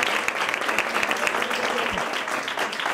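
Audience applause after an academic talk in Spanish, a sustained, even roar of many people clapping in a room, moderately loud and steady throughout.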